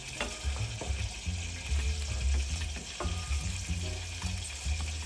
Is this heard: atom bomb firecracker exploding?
no